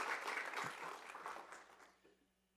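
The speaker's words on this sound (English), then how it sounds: "Let's give him a round of applause, please." Applause from the audience at a board meeting's regular session, a short burst of clapping that fades out within about two seconds.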